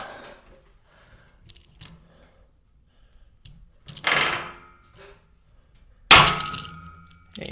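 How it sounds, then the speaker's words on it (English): A rivet is set into aluminum angle with two sharp metallic clacks, the second louder and ringing briefly. Quiet handling noises fill the pauses. "the final rivet in is done"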